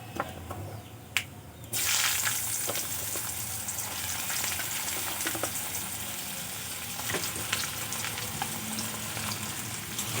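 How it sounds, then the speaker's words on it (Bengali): Cut potatoes drop into hot oil in a pan with black cumin seeds, and a sudden loud sizzle takes over, holding a dense, steady frying hiss with a few crackles close by. "আলুগুলো কিছুক্ষণ ভেজে নেব।"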